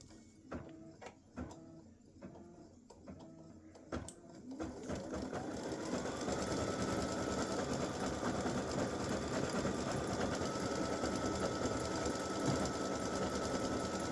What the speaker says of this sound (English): it's just going to stitch all the white areas of the candy cane